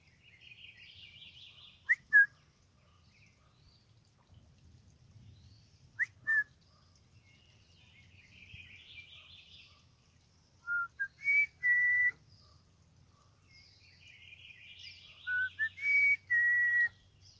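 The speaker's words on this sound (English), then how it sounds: "Some people don't like my whistling." A person whistles short melodic phrases in bursts, clear and fairly close, with quiet pauses between and soft low background rumble.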